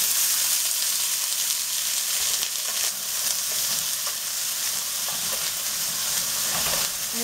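Beans go into a hot pan of oil, setting off a loud, continuous close sizzle with crackling bursts and the scrape of stirring, no speech.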